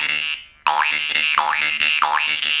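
A twangy jaw harp plays continuously, its pitch swooping up and down in a repeating wah-like pattern over a steady percussive pulse.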